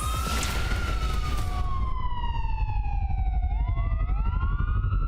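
An ambulance siren wails loudly and close, its tone sliding down and then sweeping back up in a long continuous cry over a rumbling low roar, with no voices.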